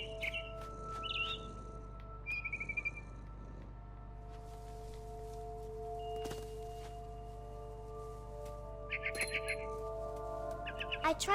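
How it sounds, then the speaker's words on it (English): Barn swallow chirps in the video game What Remains of Edith Finch, short bright calls in scattered bursts over a constant low electrical hum, fairly faint and clustered near the start and end. "Then I heard chirping outside my window."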